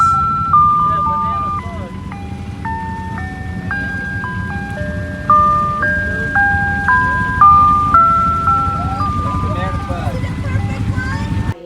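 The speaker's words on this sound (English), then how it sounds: "An ice cream man out on the dunes." An ice cream truck out on the Moses Lake sand dunes plays its tinkling jingle melody over and over, loud and close, above a steady low engine rumble.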